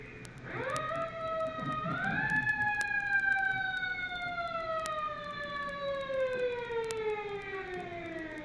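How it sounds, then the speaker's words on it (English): A new fire engine siren winding up and then slowly sliding down in pitch, a single long mechanical wail heard at moderate distance, with no talking. "you heard a little bit of that siren"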